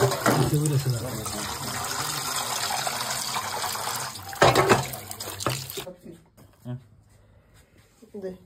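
Water poured into a pan of duck curry, a loud splashing fill for several seconds that cuts off, followed by quieter scattered clatter and a voice speaking.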